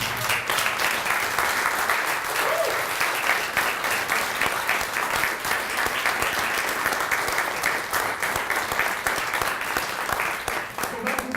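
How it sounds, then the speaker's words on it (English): A large audience applauds steadily at a Dollars for Scholars scholarship awards night, a dense, even wash of clapping that holds at full strength from start to finish with no talk over it. "and how about a round of applause?"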